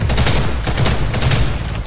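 Sustained automatic gunfire from a first-person shooter video game, a loud, close, rapid stream of shots unloading a full magazine without pause.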